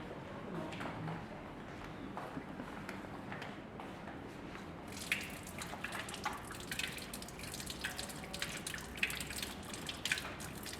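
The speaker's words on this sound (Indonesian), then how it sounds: "Ini dicuci pakai air biasa dulu ya." A hand is rinsed under plain running water, soft dripping and splashing with wet squishes, quiet and close, growing busier halfway through.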